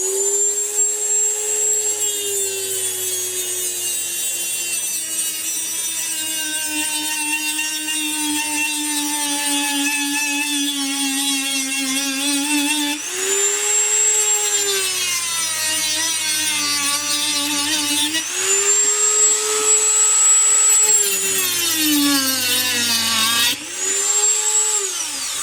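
A Dremel rotary tool whines at high speed as it cuts into a diecast metal model car body, a loud continuous grinding tone that dips and rises with load and briefly drops out twice.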